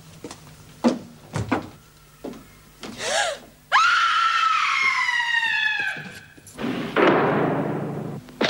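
A woman yells loudly inside a women's prison, long strained screams that rise and cut off, broken by thuds, gasps and door-like bangs.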